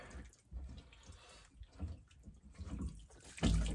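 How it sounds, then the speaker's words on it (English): Water spills and splashes from a whole house filter housing during a filter change, faint irregular trickling and dripping with a louder gush near the end. "there's water going everywhere"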